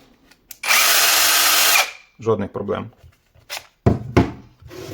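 A Procraft PKA32LI cordless chainsaw pruner whines loudly for about a second as it cuts through wood, close by, then stops; someone talks afterward.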